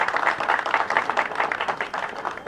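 A crowd at a political party fundraising launch claps steadily in appreciation, a dense, continuous round of hand claps with slightly uneven pulses and no talking.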